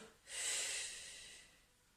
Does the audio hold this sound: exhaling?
yes